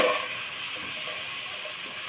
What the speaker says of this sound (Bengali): দিয়ে আমি সবজিগুলো ভালো করে ভেজে নেব।